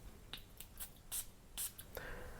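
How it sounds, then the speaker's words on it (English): Fragrance bottle sprayer on a Fragrance World perfume from the Vanilla So Sweet line, pumped in a quiet room. A few faint clicks lead into two short, bright spritzes of hiss in quick succession, then a softer trailing hiss. "Let's check out the sprayer."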